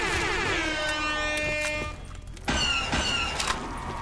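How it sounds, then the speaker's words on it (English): Air horn sound effect in a meme-themed Call of Duty custom zombies map, a loud blaring horn that cuts out after two seconds, then blasts again briefly at higher pitch. "Air horn?"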